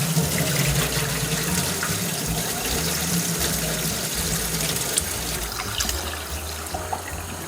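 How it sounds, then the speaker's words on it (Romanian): Cold tap water runs steadily into a sink while pork pieces are rinsed for a traditional Transylvanian liver sausage, a continuous close splashing flow with no speech. "Și mai clătim o dată, să le schimbăm apa."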